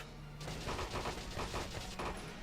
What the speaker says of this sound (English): Assaults use a machine gun that fires a barrage of bullets.